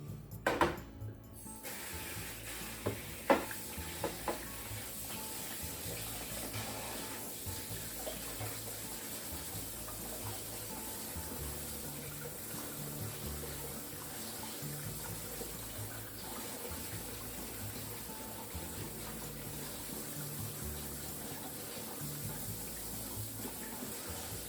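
Potatoes with skins on are washed under a running kitchen tap, a steady stream of water splashing continuously into a sink, with a few louder bumps and handling noises near the start and no talking.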